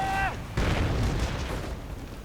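Grenade blasts in a Company of Heroes-style strategy game, a sudden loud boom about half a second in followed by rumbling debris and battle noise, after a brief tonal game sound.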